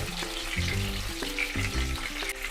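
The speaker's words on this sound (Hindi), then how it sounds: "अब इसमें ये प्याज डालेंगे। प्याज को भी तल लेंगे," Onions frying in a pan over a low flame, giving a steady close sizzle and crackle throughout with a faint hum underneath and no talking.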